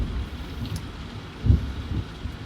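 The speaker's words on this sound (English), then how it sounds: "it's still raining outside" Rain falling outside at night, heard as a steady low, rumbling wash with a slight swell partway through, continuous and without any voices.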